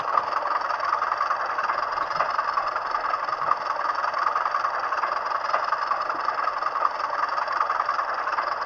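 A long train passes over a railway junction near a signal box at Stanbridge Ford, giving a continuous, steady rumble and rail roar at constant loudness with no break or pause.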